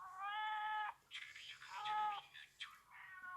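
A thin, black cat meows several times, drawn-out tonal cries with short pauses between, close and fairly faint against a quiet background.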